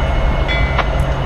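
Freight train rumbling steadily in the Train Simulator 2019 game, a continuous near, loud rail drone with a brief higher tone and a short clank partway through.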